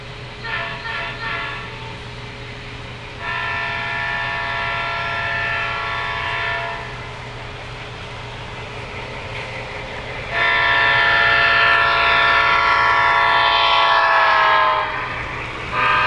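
HO scale model CSX freight train pulling out of a crew change, with sustained multi-tone horn blasts over a steady rumbling running noise, the horn loudest near the end.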